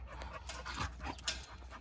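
A puppy abandoned near wildfires in central Portugal pants steadily with quick, close breaths, with faint whimpers mixed in and no talking.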